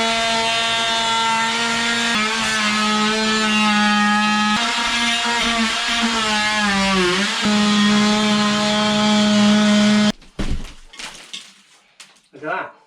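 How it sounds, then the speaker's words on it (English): An oscillating multi-tool buzzes steadily while cutting out a section of plasterboard in a stud wall, its tone shifting slightly under load, then stops, followed by the crumbling and snapping of the board being pulled away. "Go and cut that out with the multi-tool."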